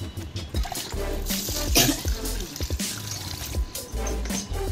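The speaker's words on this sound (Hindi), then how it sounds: "अब इसमें पानी डालते हैं" Water is poured onto rice and urad dal for idli batter, a splashing, gurgling pour with uneven bursts that runs throughout at moderate loudness.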